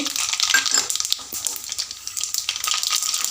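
Mustard seeds in hot oil in a kadai crackle and sizzle up close, with bright popping and spitting bursts over a continuous hiss that rises and falls throughout.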